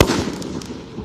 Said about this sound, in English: People are shooting like fireworks off over there by the trees.